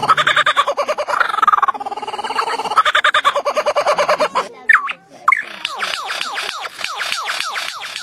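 A lyrebird pours out a loud, varied run of mimicked calls: rapid clucking, gobbling bursts and chattering phrases, broken by brief sharp whistles, all close and with no talk.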